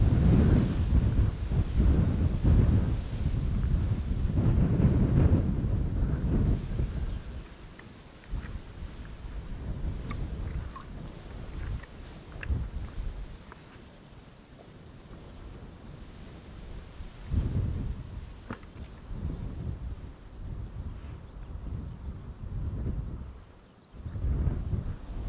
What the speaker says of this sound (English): The wind is fierce, but the sun is shining.